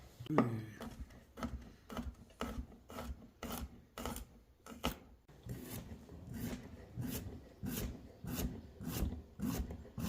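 Zucchini and squash sliced with a knife into rounds and chunks, a steady run of close, rasping cuts against a board, evenly spaced and repeated throughout.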